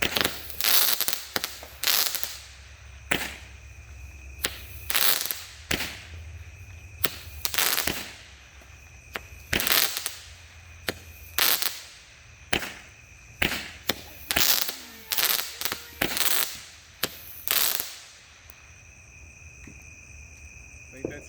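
A 200-gram Thunderstorm firework cake fires outdoors at night, sharp loud cracks and bangs bursting in irregular volleys over about twenty seconds, with crickets chirping steadily underneath.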